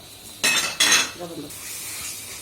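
Fish spice masala frying and being stirred in a pan, two sharp scraping strokes of the spoon over a soft sizzle that carries on quietly afterward.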